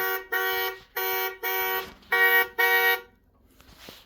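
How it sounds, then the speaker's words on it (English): A Hess toy truck's horn honks six times in a steady rhythm, bright and electronic, up close, then stops. "The horn."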